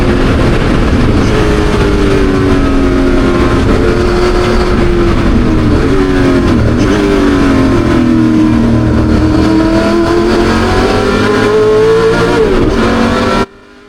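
A Ford GT40 race car at the Le Mans Classic, heard loud and close from onboard, its engine note falling and rising through engine braking and downshifts, a continuous growl that cuts off abruptly at the end.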